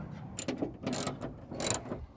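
A ratchet loosens the nuts holding a spoiler on a Dodge Charger, heard as close, quick bursts of clicking in a few short runs.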